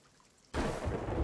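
A lightning strike in the pirate game Sea of Thieves: quiet, then a sudden loud broadband crack that swells into a sustained rumbling thunder roar filling the rest of the moment, with no talk over it.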